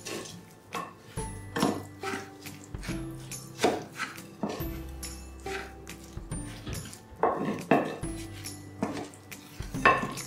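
Basmati rice being stirred with spices in a metal pot, a series of irregular clanks and scrapes of the spoon against the pot, close and fairly loud, with no talking.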